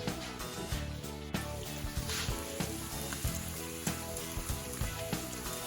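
Herbs and sausage sizzle in a pan: a close, continuous crackling fry with repeated sharp pops and clatters from utensils, no speech.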